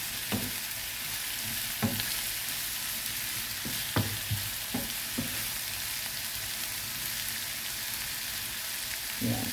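Vegetables frying in a pan, a steady broadband sizzle close by with a few soft knocks of stirring at irregular intervals, no talking.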